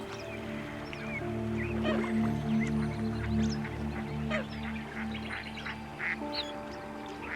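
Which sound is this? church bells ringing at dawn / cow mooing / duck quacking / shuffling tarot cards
duck quacking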